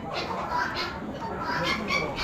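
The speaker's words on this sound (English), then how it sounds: "Bunch more hens." Hens cluck faintly at a poultry auction among other birds, their calls blending into steady crowd noise and background chatter throughout.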